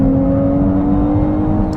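Ferrari 296 engine driven in sport mode, a loud, steady droning hum with a firm low tone heard close up and alone, holding an even pitch through the short moment.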